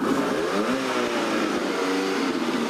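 An American muscle car engine revs loudly and close on a pit lane, its pitch climbing and dipping in surges over a rough, throaty growl.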